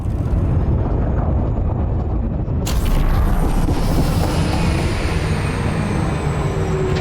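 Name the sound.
heat sink deploying in video game Elite Dangerous: Odyssey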